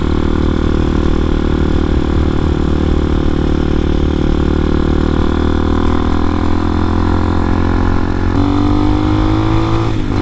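A 250cc enduro motorcycle engine runs steadily in fourth gear, a loud continuous mid-pitched drone close by that climbs slightly near the end as the rider holds throttle uphill.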